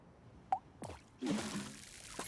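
Watering plants in the Grow: Song of The Evertree video game, a quiet sequence of drips and plops followed by a short, soft pouring splash of water, heard alone without talk.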